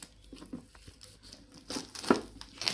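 The package of a Lenovo M9 car camera mirror is opened up close, giving soft crinkles, rustles and scattered crisp tearing sounds of packaging in irregular bursts.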